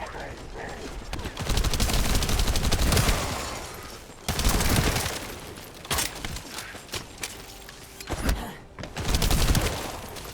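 Bursts of rapid gunfire from the shooter game The First Descendant, loud volleys separated by short pauses, with mechanical clicks and faint game voices between them.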